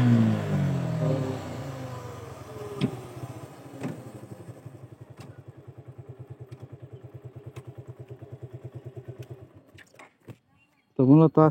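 Suzuki Gixxer Monotone motorcycle with its original exhaust running in fifth gear, a low, steady, pulsing engine thrum that fades after a brief opening rev, with a few clicks and a short burst of noise at the end.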